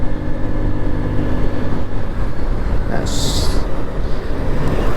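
A Hero Xoom 110cc scooter on the road accelerates to overtake a Jupiter, its engine a close, steady droning whine under rushing wind, with a brief high-pitched tone partway through.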